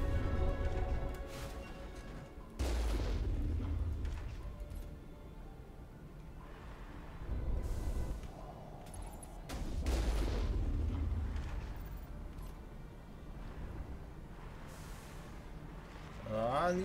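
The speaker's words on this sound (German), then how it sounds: "Da schießen die auch schon wieder." Gunfire and heavy booming shots in the sci-fi shooter Mass Effect, with loud broadband bursts around a few seconds apart over a constant low rumble of game ambience and music.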